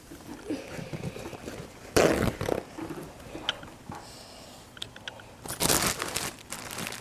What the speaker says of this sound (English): Also gonna need to get a paper towel out.